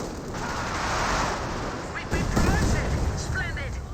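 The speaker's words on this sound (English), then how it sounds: "but here comes a mortar barrage" A mortar barrage in Company of Heroes 2: a sustained rumble of distant blasts, then a heavier impact midway and several more explosions rolling on at game volume.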